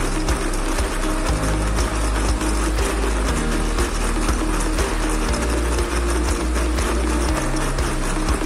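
Burner for an oven fed with used oil, running with a steady low rumble and constant mechanical whirring and ticking, loud and continuous throughout.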